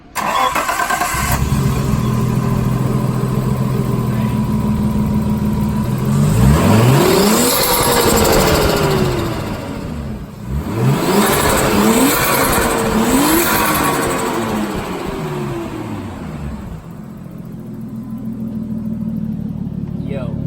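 A warm turbocharged Nissan Skyline engine idles, then revs hard several times in rising and falling sweeps with turbo flutter, loud and close, before settling back to a steady idle.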